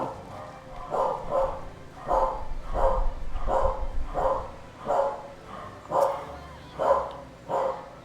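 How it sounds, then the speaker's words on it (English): Corgis barking in the Final Fantasy XIV game, about ten evenly spaced yaps repeating in a steady rhythm at moderate volume over a faint low background rumble. "Corgis are barking."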